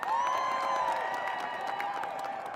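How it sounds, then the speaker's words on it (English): A protest crowd cheers and applauds for USAID staff, a sustained wash of clapping and whoops at moderate distance with a ringing tone running through it. "Let's cheer for the men and women of USAID."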